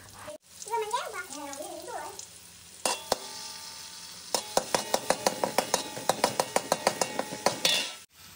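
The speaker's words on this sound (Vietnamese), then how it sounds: "đi phi hành, tỏi và một chút xả rồi ớt" Shallots, garlic, lemongrass and chili fry in a pan for Vietnamese frog braised with lemongrass, a soft sizzle broken by a quick run of sharp spatula taps and scrapes; someone talks briefly at the start.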